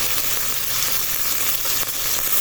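Chop suey vegetables sizzle and fry steadily in a pan while being stirred, a dense, close, continuous crackle with no talk over it.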